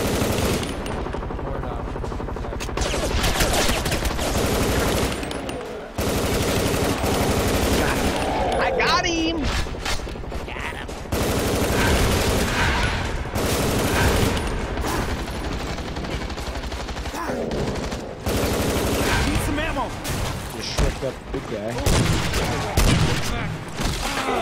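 Sustained gunfire from a weapon in the ZMR video game's Area 51 map, dense rapid bursts running almost continuously with brief gaps, loud and close, with players talking over it.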